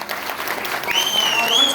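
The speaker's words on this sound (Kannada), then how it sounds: "ಮತ್ತೊಮ್ಮೆ ದೊಡ್ಡ ಚಪ್ಪಾಳೆ ಬರಲಿ" An audience breaks into applause in tribute to Dr Rajkumar. Crowd clapping continues throughout, a shrill whistle rises over it partway through, and voices mix into the noise.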